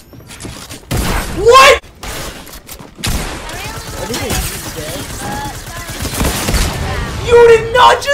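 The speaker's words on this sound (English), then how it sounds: "That's just the LMG, bro." Bursts of LMG machine gun fire in a Fortnite match ring out loud and close among other gunfire and impacts, while an excited voice yells over the shooting.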